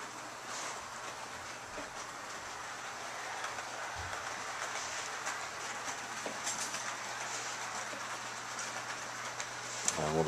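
A model railway train runs through a Christmas model village, a faint, steady rolling rumble with light clickety-clack from the track that continues for about ten seconds, with scattered small clicks and no clear talk.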